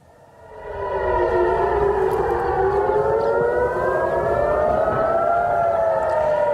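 A civil defense air raid siren in Jerusalem wails loud and steady, its rising and falling tones sweeping slowly after a quick swell in the first second, with no voices.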